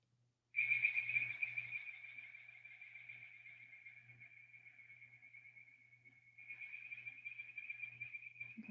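At night in the Coastal Plain, a frog gives a sustained, bird-like trilling call that runs for several seconds, wavers slightly, then rises again, heard fairly close over a low background hum.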